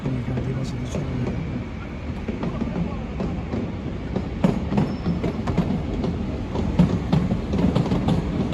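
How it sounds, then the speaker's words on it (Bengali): A train rolls past a city level crossing in Bilbao, Spain, with a steady loud rumble and rhythmic wheel clatter building toward the end, amid street noise. "গাড়িগুলো বন্ধ করে তারপর ট্রেন যাবে সিস্টেম"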